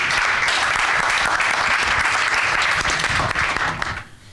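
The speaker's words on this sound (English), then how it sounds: "you should really give yourself a big applause" Audience applause at the close of a panel discussion on the future of Scala at a conference: dense, sustained clapping from a large crowd that holds steady for about four seconds, then quickly dies away.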